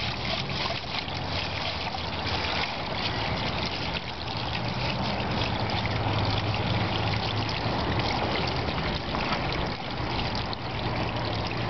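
Water from a full 5-gallon bucket is poured onto permeable pavement ringed with plumber's putty, a steady broadband rushing and splashing that holds loud and even throughout, with no talk.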